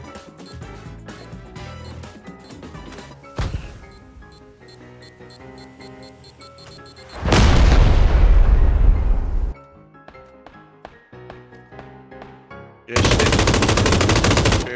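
Automatic gunfire in the PUBG battle royale game cracks out in rapid bursts. Two heavy explosions roar between and after the bursts, loud and close, with no talk over them.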